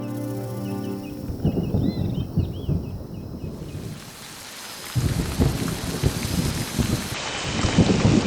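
Steady rain falls outdoors during an afternoon horse-training session at a stable, with rumbling thunder and some wind under a dense, close hiss of drops.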